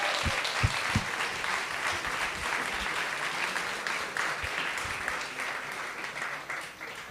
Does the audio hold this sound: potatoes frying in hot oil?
no